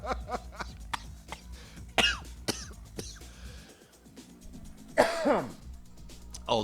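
A person clears their throat and coughs several times in short bursts, with two louder hacking coughs standing out, close and dry, with no words spoken.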